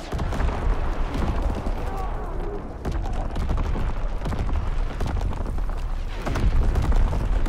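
Rumbling artillery barrage in a Call of Duty WWII hardcore team deathmatch, with continuous booming blasts and crackling impacts layered densely, under intermittent voices.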